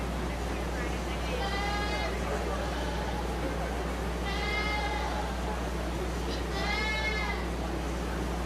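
Meat goats at a 4-H county fair goat show bleat three times at intervals, each cry moderately near and wavering, over a steady background hum and faint crowd murmur.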